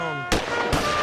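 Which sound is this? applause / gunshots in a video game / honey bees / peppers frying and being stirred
gunshots in a video game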